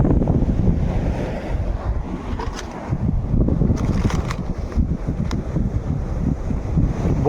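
Sea surf washes up a Konkan beach on the Maharashtra coast during shore fishing, a steady broadband roar of breaking waves mixed with gusty wind buffeting the microphone, loud and continuous throughout with no talking.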